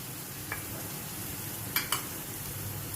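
Onion being sautéed with asafoetida, red chilli, Malvani masala, turmeric and garam masala for a jackfruit and tender cashew dish, giving a soft steady sizzle with a few light clinks of a spoon against the pan.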